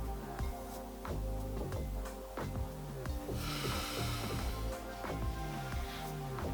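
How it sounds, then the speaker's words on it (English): A person sniffs hard at their own armpit, giving a run of short, close nasal snorts and breaths over a steady background. "I'm sniffing my armpit not because I smell, but I'm actually just trying to neutralize the odours in my nose"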